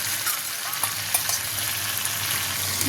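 Crab curry with red mustard paste frying in a pot, a constant close sizzle with light scraping from stirring now and then, no voices.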